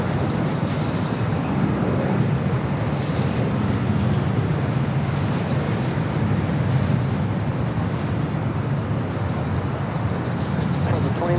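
An airplane at Los Angeles LAX airport gives a steady, loud, broadband roar that holds at an even level throughout, with no clear voices over it.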